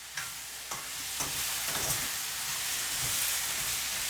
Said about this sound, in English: We'll fry the onions up for a minute.